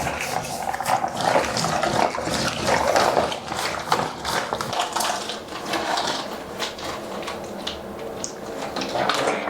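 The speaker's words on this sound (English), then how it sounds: "I'm gonna agitate this some more and then dump the water in the toilet" Cloth diaper wash water being dumped into a toilet, a continuous splashing pour with sloshing and gurgling, fairly close and steady throughout with no talk.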